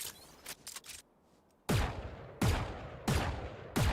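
Gunfire from a Counter-Strike or Valorant video game: a few light early pops, a pause, then four loud sharp shots about every 0.7 seconds, each ringing out with a booming tail.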